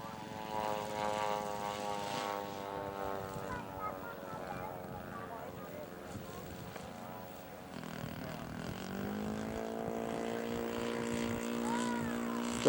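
A PT-19 scale model aircraft taxis out on a small propeller engine, a steady buzzing drone with a rich harmonic whine whose pitch drops and settles at a lower idle partway through, close and continuous.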